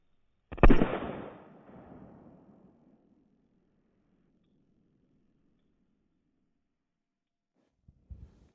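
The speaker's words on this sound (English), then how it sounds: "So just one of the firecrackers went off." A single firecracker explodes on a clay model of a KV-2 tank, outdoors in the cold: one sharp loud bang whose rumble trails off over a couple of seconds, then near silence until a brief thump near the end.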